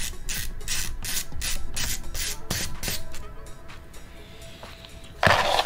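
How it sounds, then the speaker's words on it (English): A screwdriver working inside a damaged laptop hinge makes a run of rhythmic scraping, rasping strokes, close and steady, then eases off before a brief louder burst of scratching at the end. "This screwdriver barely fits in here."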